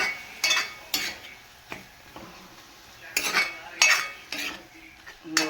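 Tomatoes and capsicum fry in a pan, with a soft sizzle under sharp, intermittent scrapes and clinks of a spatula stirring against the metal.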